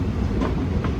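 A passenger train on the Kollam to Aryankavu line rolls into Aryankavu station, a loud, close rumble of wheels with faint rhythmic clatter over the rails.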